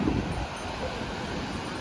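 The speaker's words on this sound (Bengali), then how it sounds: "সুন্দর হাওয়া, হাওয়া দিচ্ছে" Steady wind blowing across Puri beach on the seashore, a continuous broadband rush with gentle gusts, close to the microphone and buffeting it, with no voices.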